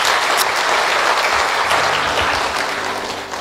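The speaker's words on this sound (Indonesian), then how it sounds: "tepuk tangan buat kaum bapak dulu" A church congregation at a Christmas service in Palangka Raya claps for the men, steady dense applause filling the room throughout, loud and close, with no talk over it.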